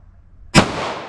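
Single sharp gunshot from a 9mm+P Speer Gold Dot round fired through a 5-inch barrel Smith & Wesson M&P pistol, a loud close crack followed by a ringing decay.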